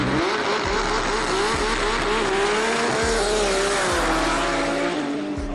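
A drag racing car at a Bulgarian event roars loudly and continuously, its engine note climbing steadily with repeated low thumps, dense and close throughout.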